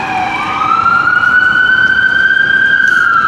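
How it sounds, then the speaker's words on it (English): A fire truck's loud siren wails steadily on a rainy city street, rising in pitch at the start and then holding a sustained tone, with road rumble underneath and no talking. "There's a fire truck"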